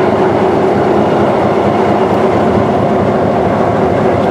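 A steam locomotive, one of a triple-header of steam engines, runs with a loud, steady rumbling train sound and rail clatter throughout, no voices over it.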